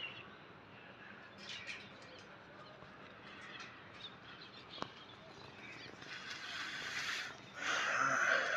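Pigeons settle onto a rooftop loft net during kabootar bazi pigeon flying, giving faint, scattered calls over a steady outdoor hush, with a louder burst of fluttering near the end.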